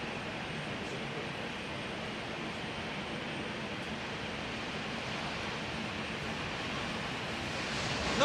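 A Finnair 190 airliner at Hamburg Airport produces a continuous broadband jet roar, fairly distant and even in level, swelling slightly at the very end.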